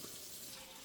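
Water poured from a glass into a pot of cooking ingredients, about half a glass, a soft continuous splashing trickle, quiet and steady for under a second.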